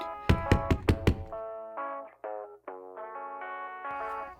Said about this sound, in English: I knock again.